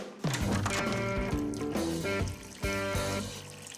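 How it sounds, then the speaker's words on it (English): A tap left running pours water in a continuous stream, close and fairly loud, with a bright, bubbly, cartoonish tone throughout. "I must have left it running when I needed some water for my plants."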